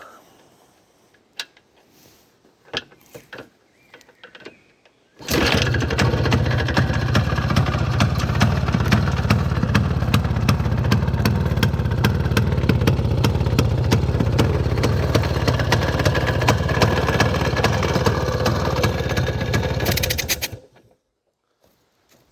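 An Izh Planeta 5 motorcycle set up as an enduro bike fires up after a few quiet knocks, then runs loud and steady at idle for about fifteen seconds before cutting off abruptly.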